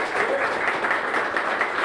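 An audience at a non-profit pitch event applauds with dense, steady clapping that stays even and moderately loud for the whole short stretch.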